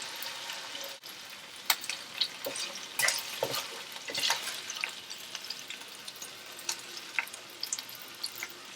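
Potatoes fry in hot oil in a pan for a beefsteak-with-potato dish, giving a steady close sizzle with occasional sharper crackles and stirring scrapes.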